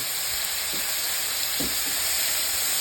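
Boneless pork chops frying in a pan, a loud constant close sizzle and hiss with a couple of faint low thumps.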